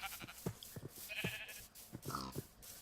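Sheep bleating on a farm in Minecraft, several short, quiet bleats in an uneven sequence, fairly faint.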